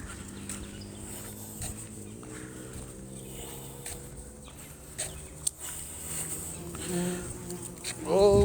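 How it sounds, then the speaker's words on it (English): Bees buzz close around a face during a morning walk outdoors, a steady droning hum with a rising, louder pass near the end; footsteps and faint background sounds underneath. "Bees all in my face."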